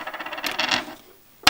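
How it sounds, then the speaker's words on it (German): Two dice rattle and clatter on a table during a savings board game, a quick burst of light clicking taps that fades out, then one sharp tap at the very end. "Und wir würfeln."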